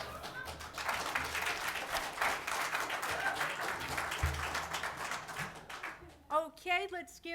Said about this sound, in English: let's give these candidates a good round of applause